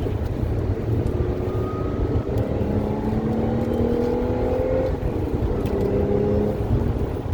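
A supercharged Audi S5 engine drones steadily at close range with a rising supercharger whine layered over the rumble, holding a constant loud level throughout.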